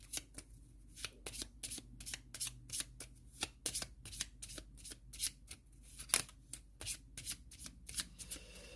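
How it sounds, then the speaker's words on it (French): Cards of a Nemesis board game event deck being shuffled together with the discard pile, a rapid run of crisp riffling bursts repeating steadily at close range with no talk. "je remélange le paquet événement avec la défausse qui se trouve en dessous"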